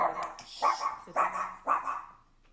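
A dog barks three times in an even rhythm, each bark loud and near with a short whine-like tail, in a quiet indoor room with no talk over it.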